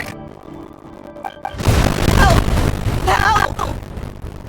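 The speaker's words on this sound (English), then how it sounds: "That sounded like an explosion." A Genshin Impact game scene where a deep boom bursts out after a quiet stretch, then rolling crashes and rumbles carry on loudly, with voices of game characters talking over the noise.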